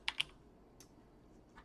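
A few quiet keystrokes on a computer keyboard, two quick taps at the start followed by scattered single clicks, with no talk.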